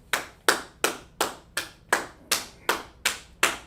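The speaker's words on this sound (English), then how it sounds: "Let's clap it up for her." Hands clap in a steady, even rhythm, about ten crisp claps spaced evenly apart with no talking, during a vocabulary lesson.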